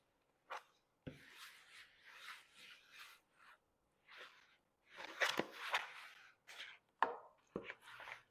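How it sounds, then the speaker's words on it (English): Hands knead and mix seitan dough in a bowl, making faint, irregular squishing and rubbing bursts separated by short silences, growing busier and denser toward the end. "so now we are going to mix her together"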